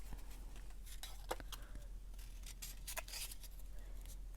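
Scissors snip through paper for a vintage retro junk journal, a series of short, close crisp cuts and rustles at a quiet level, with no talk over them.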